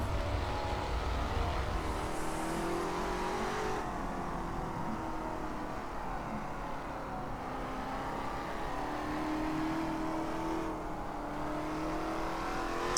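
The V8 engine of a 1966 Can-Am race car roars in Assetto Corsa, a steady, loud throaty drone with shifting revs as it accelerates and lifts, continuous for the full stretch with no talking.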